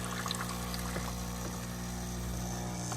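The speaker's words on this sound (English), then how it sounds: "So it runs a little rinse cycle." Espresso maker running its rinse cycle, a steady pump hum with water pouring and trickling through, continuous and close with no talking.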